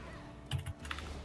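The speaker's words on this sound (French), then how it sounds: "on entend bien ton clavier encore" Keyboard keys clacking in a few quick bursts during an online game voice chat, faint and close to a headset microphone, with short pauses between clusters of keystrokes.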